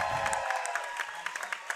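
At a trampwall competition, a small crowd applauds the performers with scattered, fairly faint claps and some crowd noise over a steady background hum.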